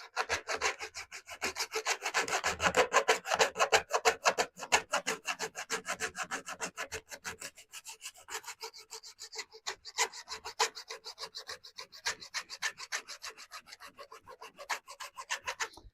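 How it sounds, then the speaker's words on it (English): A small hand saw cuts through model railway rails and fibreglass sleeper strip, giving a close, fast rasping back-and-forth stroke that softens slightly toward the end. "this will cut fiberglass sleeper. I mean, obviously it is doing."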